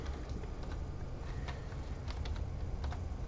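Fingers type steadily on a computer keyboard, entering a cryptocurrency name into a wallet; quick, close key clicks in an uneven rhythm over a constant background hiss, with no voices.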